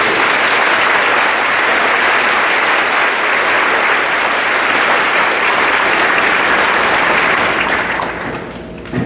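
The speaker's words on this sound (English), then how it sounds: "give me a round of applause for the class of" Sustained, full applause from a graduation ceremony audience cheering the class of 2022, loud and even for about nine seconds before tapering slightly at the end.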